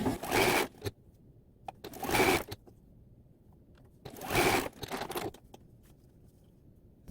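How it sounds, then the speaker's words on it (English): A sewing machine joins quilt rows and cornerstones in three short close bursts of whirring stitching, separated by quiet pauses with faint handling clicks. "I'm just going to run those through and sew this together real quick."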